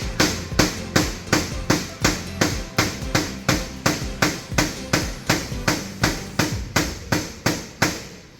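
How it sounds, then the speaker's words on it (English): Hammer blows knock the corners of a 4x2x2 dubia roach enclosure together in a steady, rapid series of about twenty sharp strikes, close and loud, with no talking. "you take your handy dandy hammer, you just take your corners in."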